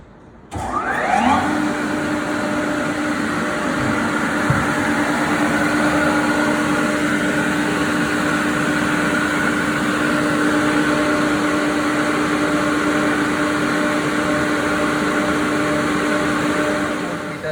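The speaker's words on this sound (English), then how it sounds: "By pressing this key, we can start the induction motor." A three-phase induction motor, serving as prime mover for a DC generator, starts up and runs up to speed, its whine rising in pitch and then settling into a loud, steady hum that continues without talk.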